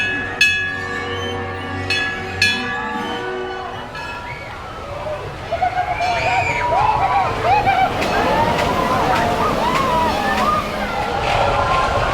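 Runaway Mine Train roller coaster at Alton Towers: track clatter and rumbling rise after a quieter start, with screams and voices over the loud, steady ride noise.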